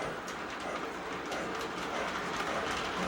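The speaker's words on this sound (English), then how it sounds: "now let's get down here and get these trains running before I run out of time" O gauge model trains run on a home layout with a soft steady rumble and light clicking of wheels over track joints, faint and continuous with no talking.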